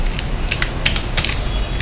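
Rapid keystrokes on a computer keyboard entering data into accounting software, a close, uneven patter of clicks over a steady low background hum.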